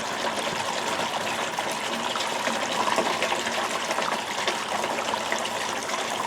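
Water dribbles steadily into a gold-prospecting clean-up sluice, a continuous, fairly loud trickling and splashing close by with no talk.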